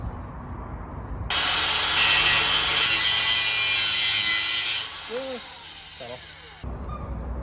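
A saw cuts a slice from a concrete shed panel clamp in one long, loud, close, steady stretch of harsh grinding that stops abruptly, then quieter handling noises follow.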